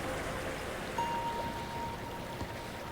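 Steady broadband wash of a river flowing beside a footpath, even and continuous throughout, with no one speaking and a faint thin tone drifting in partway.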